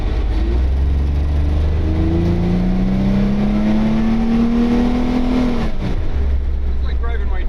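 A 4x4 restomod classic car accelerates at full throttle, its loud engine note rising steadily in pitch over several seconds before easing off, heard from up close.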